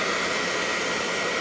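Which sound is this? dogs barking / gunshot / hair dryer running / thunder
hair dryer running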